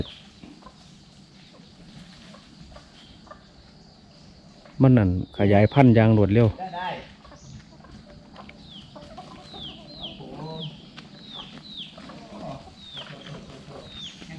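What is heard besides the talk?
chickens clucking, free-roaming chickens kept at a temple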